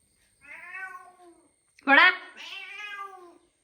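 A cat meows close by, two drawn-out cries with a sharper, louder middle one, no other sounds.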